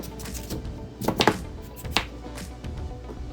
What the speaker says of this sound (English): Cut it in small pieces, put it in a pot, put some salt and boil.